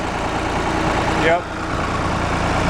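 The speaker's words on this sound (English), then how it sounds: "3-cylinder on the 3910. Real simple tractor, good worker." A 3-cylinder engine on a 3910 tractor idles steadily, a close, even low rumble with a brief swell partway through, while someone speaks a short word over it.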